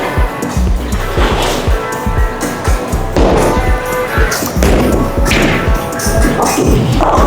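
Bowling ball rolling down a lane and striking pins during practice for a senior US Open tournament, a loud rumbling roll with repeated thuds and crashes amid alley noise.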